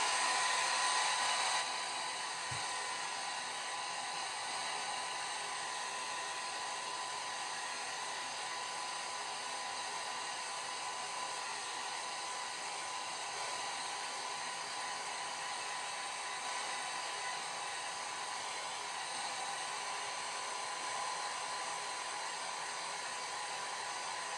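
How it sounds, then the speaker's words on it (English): A hair dryer blows on watercolor paint continuously with a steady, airy roar, starting slightly louder and then holding an even level throughout. "We will dry it again quickly with a blow dryer."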